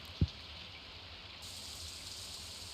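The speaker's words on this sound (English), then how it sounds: "But it's raining" Steady, soft rain from Stardew Valley hisses faintly as a quiet, even wash, with one short low thump near the start.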